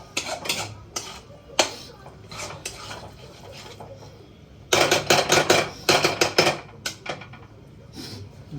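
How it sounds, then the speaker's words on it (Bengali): Curry stirred in a cooking pot: bursts of rapid metallic scraping and clinking of a spatula against the pot, close and fairly loud, with quieter gaps between rounds of stirring. "এখন নাড়তে হবে, একটু নাড়তে হবে সামনে দাঁড়িয়ে"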